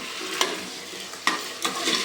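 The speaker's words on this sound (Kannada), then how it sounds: "ಆ್ಯಡ್ ಮಾಡಿಕೊಂಡು ನೀಟಾಗಿ ಫ್ರೈ ಮಾಡಬೇಕು. ಹೈ ಫ್ಲೇಮಲ್ಲೇ ಮಾಡಿ, ಲೋ ಫ್ಲೇಮ್ ಏನು ಮಾಡಬೇಡಿ." Chopped vegetables stir-fried in oil on high flame for a green gram masala curry: a continuous close sizzle broken by three sharp spatula scrapes and stirs, with no voices.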